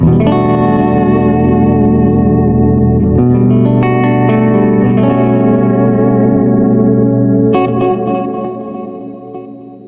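An electric guitar runs through a Boss MS-3 multi-tap delay and modulation reverb. Sustained, shimmering chords ring and repeat in swirling echoes, a new chord joins partway through, and the trails fade out at the end.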